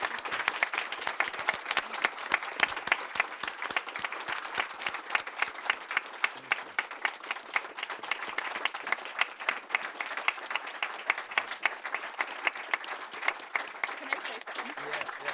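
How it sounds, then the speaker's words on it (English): Sustained, dense applause from a large audience, steady clapping that stays loud throughout with no voices standing out. "So with that said, one big round of applause."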